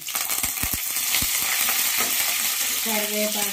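Garlic and curry leaves frying in hot oil in a pan: a loud, continuous close sizzle with crackles and stirring scrapes, plus a short faint tonal sound near the end.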